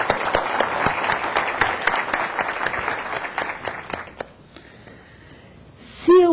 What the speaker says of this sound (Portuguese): Uma salva de palmas para o Fernando Miller.